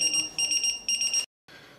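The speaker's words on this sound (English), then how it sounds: "the pager goes off and you jump out of your skin" A lifeboat crew's pager alarm goes off nearby with loud, rapid pulsing beeps in three bursts, stopping abruptly, followed by a brief quieter tone.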